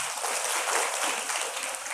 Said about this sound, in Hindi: उसकी भी ताली बजाओ